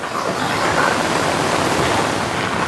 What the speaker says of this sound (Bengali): একটা খাড়া গিরিখাত বেয়ে নদীটা এখানে প্রবাহিত হচ্ছে।